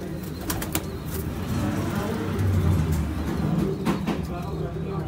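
A breeding pair of Sialkoti roof pigeons coos in low, soft, rolling calls, with faint wing flutters and a car passing now and then in the background.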